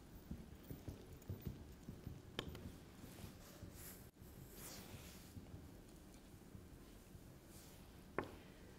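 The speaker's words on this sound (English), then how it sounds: "So if we collect some canter data whenever you're ready, Laura" A horse canters, its hooves clip-clopping in a steady rhythm at moderate distance, with light wind noise and an occasional sharper knock.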